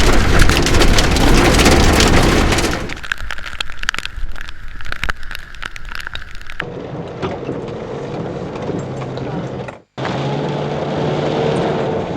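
Heavy rain mixed with hail pelting the front of a car, a dense roaring drumming that fills the scene, with rattling impacts, loud and close, briefly cutting out before resuming, no talk.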